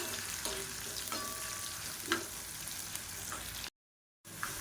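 Chopped shallots and garlic frying in a pan for a village-style coriander thokku, a steady close sizzle with occasional stirring scrapes, briefly cut out near the end before resuming.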